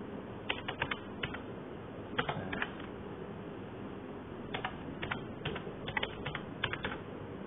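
Close computer keyboard typing in short irregular clusters of quick key clicks separated by brief pauses, with steady low background hum and no speech.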